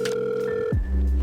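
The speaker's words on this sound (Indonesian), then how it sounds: "kita coba telepon dulu." A telephone call rings out with a steady electronic tone that holds for most of a second, then cuts off with a sliding drop in pitch.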